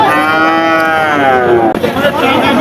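A cow moos in one long, loud, drawn-out call at a busy cattle market where deshi and crossbred cattle are bought and sold. The call ends with a brief rougher stretch and softer crowd noise.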